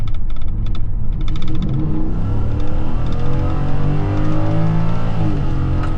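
A 2025 Ford F150 pickup with a 5.0L Coyote V8 accelerates hard, its loud, close engine note rising steadily in pitch as it pulls through the revs, with a continuous deep roar and no talking.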